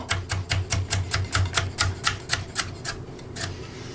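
A Global turbo knife chops rainbow carrots in a quick, steady run of about fourteen crisp, close strikes that slow and fade toward the end.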